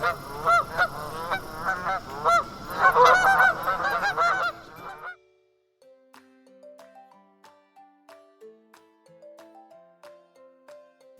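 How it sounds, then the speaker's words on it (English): Geese honk in a noisy, overlapping flock for about five seconds, loud and close, followed by a quieter passage of sparse, separate tonal calls. "Those were the sound of geese."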